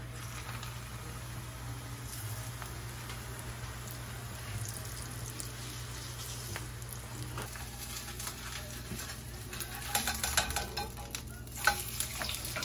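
Extra virgin olive oil sizzles steadily in a preheated nonstick pan, a close, even frying hiss with light crackles and a few louder pops near the end.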